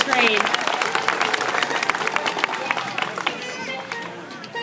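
Applause from a zoo show audience rises strongly at first, then thins out over several seconds into scattered claps, with voices and chatter mixed in beneath.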